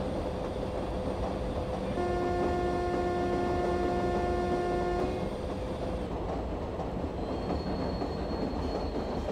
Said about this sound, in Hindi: तो हमारा वडोदरा स्टेशन आ रहा है।